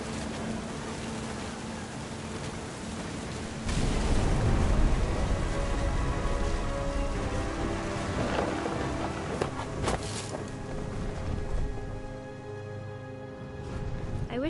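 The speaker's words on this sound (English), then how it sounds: "The thunder sounded much too close and full of angry power" Thunderstorm in What Remains of Edith Finch: heavy steady rain on surfaces with a sudden swell of close, rumbling thunder partway through and crackling rolls afterward, dense and loud with no voices.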